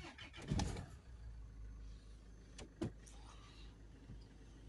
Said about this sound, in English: And we can start the vehicle up.